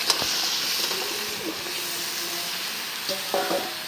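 Fresh young bottle gourd goes into a pan of sizzling hilsa fish and spices, a continuous loud frying hiss with a few soft clinks and stirring scrapes, no talking.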